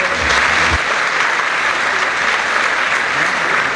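A large audience at an award event for young fashion designers in Istanbul applauds loudly to welcome a speaker onto the stage, a dense, steady wash of clapping that lasts throughout.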